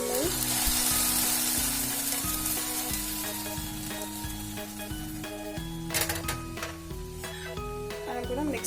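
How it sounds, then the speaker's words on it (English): Boiled milk added to sabudana kheer in a pan and stirred, giving a soft sizzle and bubbling with spoon scrapes throughout, under steady background music. "I'm gonna add some milk."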